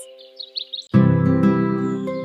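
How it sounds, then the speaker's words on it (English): Birds chirp in a short run of light, high tweets, then a loud, sustained tonal sound suddenly cuts in and dominates. "I am watching the birds."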